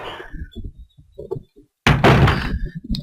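A heavy wooden door opens with a solid thunk and a rushing creak in the PS1 video game Resident Evil 1, loud and close after soft footsteps, followed by a brief quieter tail.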